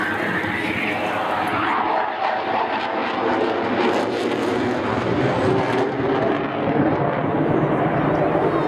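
An RAF Typhoon jet roars past at the East Fortune Airshow 2014, a loud, sustained broadband jet rumble filling the whole stretch as a commentator speaks over a public address system.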